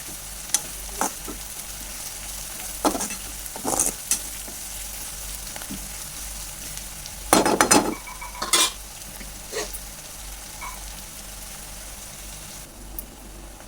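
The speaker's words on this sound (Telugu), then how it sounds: "ఆనియన్స్ అయితే బాగా వేగిన పోపు" Onions and a tempering of mustard seeds and dal sizzle steadily in a hot pan for a ridge gourd curry, with continuous frying hiss, occasional stirring scrapes and a few utensil clinks against the pan.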